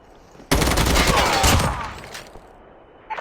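Rapid hip-fire gunshots from a weapon in the Call of Duty Mobile battle royale game, a loud dense burst of automatic fire lasting about two seconds before fading, with another shot starting at the end.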